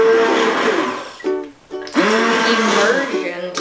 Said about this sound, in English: Make sure that you're always covering the immersion blender in so that you don't get any splashback